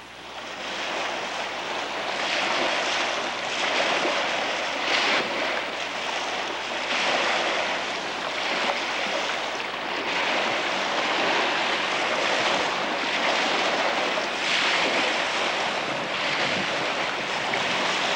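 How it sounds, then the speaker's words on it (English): Continuous rush of ocean waves washing and breaking, with wind buffeting the microphone throughout; steady and fairly loud, no voices. "You can hear the water."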